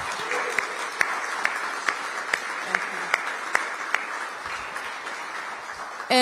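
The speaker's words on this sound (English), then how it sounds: "let's give them a big round of applause" Sustained audience applause at a mayoral signing event with government union staff, steady crowd clapping with a few sharper nearby claps standing out, continuing evenly throughout.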